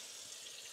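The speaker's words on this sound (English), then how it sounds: "This, it's a silicone movable faucet" Water running from a silicone movable faucet into a custom sink in a luxury camper van, a steady close hiss and splash lasting the whole brief moment.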